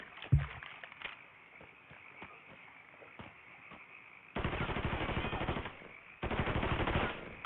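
Gunfire in the video game Mafia 3 starts with a sharp single shot, then sparse pops, followed by two long, dense bursts of rapid automatic fire heard close and loud, with no talking.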